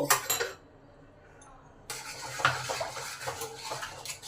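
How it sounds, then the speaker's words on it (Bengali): A spoon stirs powdered milk into lukewarm milk in a pan, scraping and clinking against the metal in close, soft bursts. A short quiet pause falls between them, and no one speaks. "এবার এই পাউডার দুধটা এই দুধের সঙ্গে দিয়ে ভালো করে গুলে নেব।"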